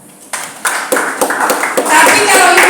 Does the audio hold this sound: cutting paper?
no